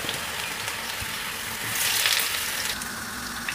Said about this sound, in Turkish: Çok az yağda, çok az kızartacağım.